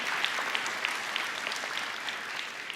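An indoor audience applauds steadily, with a dense patter of many hands clapping at a moderate distance and no voices over it.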